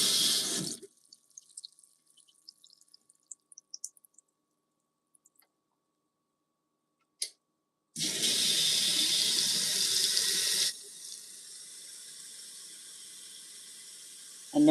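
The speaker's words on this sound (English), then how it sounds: "And there's our rinse cycle." A GE GTW220ACW0WW top-load washing machine filling for its rinse cycle: quiet clicks and drips, then a sudden loud rush of water lasting a few seconds before settling to a softer steady flow.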